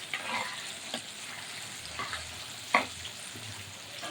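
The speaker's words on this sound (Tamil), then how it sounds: "மீன் வறுவல் வெந்துட்டுருக்கு." Fish sizzles while frying in a pan as a soft, steady crackle broken by a few sharper pops and spatters.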